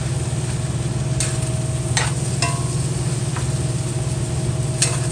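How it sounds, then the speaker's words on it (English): Constant close sizzling from vegetables stir-frying in a hot cast iron pan, with a low steady hum underneath and a few sharp clinks of a utensil. "I'm also stir frying vegetables over there, just starting to heat up"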